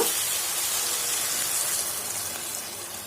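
Water poured into a hot pan of soya chunk masala for a kurma gravy sends up a steady, loud, close hiss that holds without a break, easing slightly toward the end.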